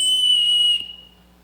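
A whistle gives one short, shrill, steady blast on a school musical stage, then cuts off, leaving only faint room tone.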